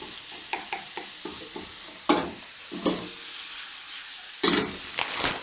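Ingredients for a savoury cake being stirred and cooked together in a pan, with repeated scraping strokes and bursts of sizzling at close range and no voices.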